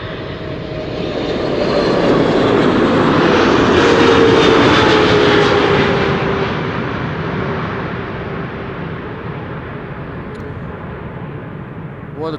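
A large four-engine airliner, one of an A340, 747 or A380, passes on landing with a broad, loud jet roar that swells and peaks, then slowly fades as it moves away, with no talking over it.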